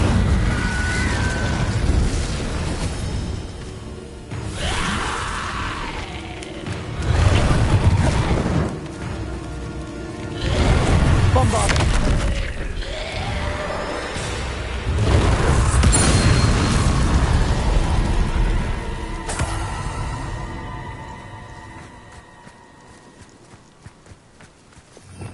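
Spell blasts from Hogwarts Legacy, including the Incendio fire spell, land as a series of booming, crackling bursts spaced a few seconds apart, each swelling loudly then fading, with a ringing tonal tail near the end.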